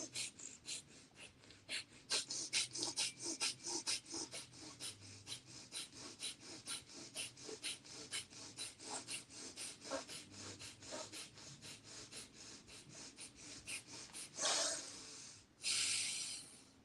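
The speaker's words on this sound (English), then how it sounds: "we're going to start breathing in through our nose, out" Rapid rhythmic breathing in through the nose and out during a breathing exercise, with dozens of quick sharp puffs in steady succession, then a long deep inhale, a pause and a final forceful exhale, close to the microphone.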